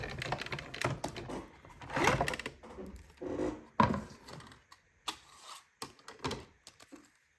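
An electronic cutting machine cuts out a paper picture, giving off a series of close, irregular clicks and short whirring moves with brief pauses, ending in a few scattered taps.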